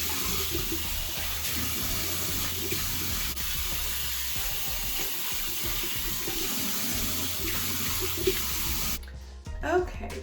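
Tap water runs steadily from a faucet into a bathroom sink while a face is rinsed off, a continuous broadband splash that cuts off near the end, followed by a few brief handling noises.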